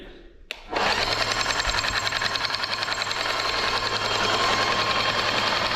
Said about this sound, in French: Donc là, ça nettoie le système interne de la pompe.